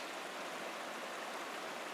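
Fast-flowing river water on the Rattlesnake Trail, a steady, dense rushing hiss of water close by, constant throughout with no talk.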